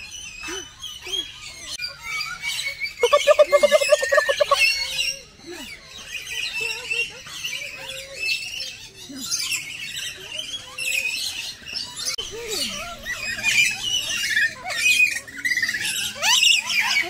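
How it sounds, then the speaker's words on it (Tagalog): A bird squawks in loud, harsh bursts outdoors during a family trip in Cebu City, with a strong run of calls early on and scattered chirps after, over background chatter and voices. "Wow, look at the bird."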